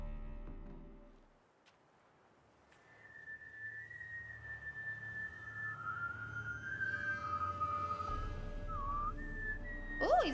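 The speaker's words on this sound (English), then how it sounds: "he's whistling the kid's song" A character in the video game The Witcher 3: Hearts of Stone whistles a children's song, a clear melodic tune rising over quiet game ambience with a low rumbling bed underneath.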